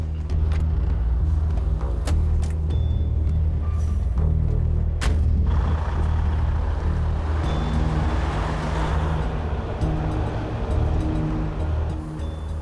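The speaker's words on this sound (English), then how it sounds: "Jamie gets ready to take the last modern wrecker in his fleet, HR 116, for a drive" A heavy wrecker tow truck, HR 116, runs with a deep, steady diesel rumble that holds loud and close throughout, with a sharp knock partway through as it sets off driving.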